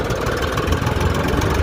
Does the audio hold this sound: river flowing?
no